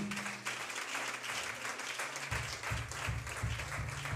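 A church congregation applauds together, a dense, steady patter of many hands clapping that continues throughout, with low sustained tones underneath.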